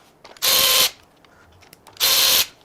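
Two loud, sharp bursts of a power impact tool or ratchet gun whirring on bolts that hold the camshaft in a Nissan or Infiniti VC-Turbo cylinder head, each about half a second, with a short quiet gap between.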